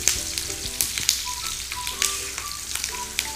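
Curry leaves spit and crackle in hot oil with a loud, busy sizzle, and sharp pops and crackles break in irregularly through the sound, close up and without talk.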